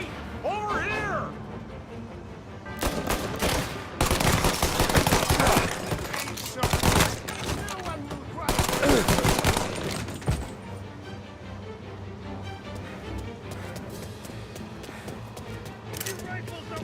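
Gunfire bursts in the mobster game Mafia, with heavy broadband volleys through the middle of the stretch over shouting voices and game music, easing to quieter ambience afterward.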